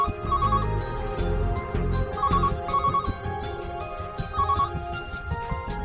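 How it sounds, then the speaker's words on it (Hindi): A telephone rings indoors in a home, its electronic ringtone repeating in short bursts over a busy, noisy background of household sound. "बेटा फोन तो उठा लो।"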